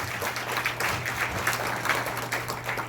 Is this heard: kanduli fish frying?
no